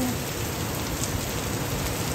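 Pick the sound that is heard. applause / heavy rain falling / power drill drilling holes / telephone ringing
heavy rain falling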